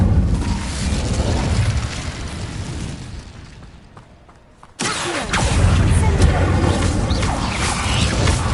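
Roaring fiery burst from the Incendio fire spell in Hogwarts Legacy, loud rumbling flames that die down to a lull before a sudden sharp blast reignites the roar and carries to the end.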